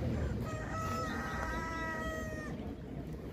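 Rooster crowing at a Polish poultry market, with several harmonic crows stretched across the middle of the clip over steady market bustle and low crowd noise.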